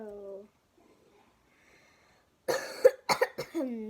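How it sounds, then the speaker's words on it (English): A person coughs several times in a quick, harsh cluster, close and fairly loud, after a brief spoken phrase and a stretch of near silence. "sorry, I had a cough."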